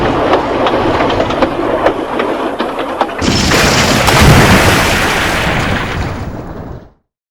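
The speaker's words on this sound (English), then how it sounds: "there was a huge explosion" A dynamite explosion on a mountain near a quarry: a rattling, rhythmic train-like clatter is cut off by a sudden loud, close blast whose broad rumble holds for several seconds before ending abruptly.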